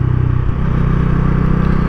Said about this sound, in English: while riding, the exhaust note is really bassy